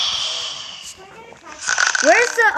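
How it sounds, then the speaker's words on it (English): A rough, rasping snore from a character in the video game Mr Boomer's Obby rumbles near the start, followed by a sliding, warbling electronic sound effect toward the end. "Who's snoring?"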